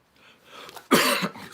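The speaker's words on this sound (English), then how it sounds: "excuse me, let me clear my throat." A man at a live presentation clears his throat once, a short loud rasp after a second of faint background breath and room noise.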